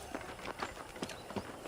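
Horse hooves clip-clopping on a ranch in the video game Red Dead Redemption, a steady walking rhythm of soft repeated hoofbeats, fairly faint.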